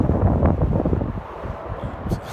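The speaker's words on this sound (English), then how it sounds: "The wind is going crazy." Strong gusty wind outdoors on a nature walk, buffeting the microphone with a loud, close, rumbling roar that surges and eases, with faint rustling behind it and no talk.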